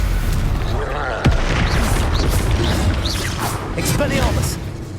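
A Stupefy spell cast in Hogwarts Legacy, heard amid a busy duel: a sharp magical burst with a low boom and whooshing sweeps, under a voice calling out spells.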